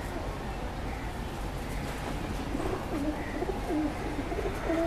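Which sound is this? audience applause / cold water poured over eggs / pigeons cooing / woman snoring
pigeons cooing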